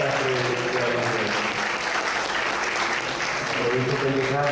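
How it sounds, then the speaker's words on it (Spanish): Audience at an economic lecture in Puerto Rico gives steady, sustained applause, many hands clapping evenly in a hall with some voices mixed in. "Así que un aplauso para nuestra querida Margarita Sastre de Almaceda."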